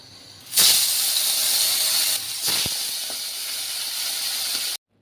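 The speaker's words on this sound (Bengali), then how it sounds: "এদিকে আমার তেলও গরম হয়ে গেছে, তো চলো মাছগুলোকে একটু ভেজে নিই।" Fish pieces drop into hot oil and set off a sudden loud, sustained hissing sizzle close by that carries on steadily, then cuts off abruptly.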